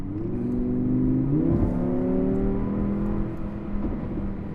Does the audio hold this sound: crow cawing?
no